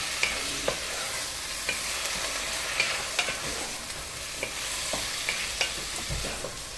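Two tomatoes sauté in a pan with a steady, hissing sizzle, broken by light scrapes and taps from stirring. The frying is close and continuous, with no talking.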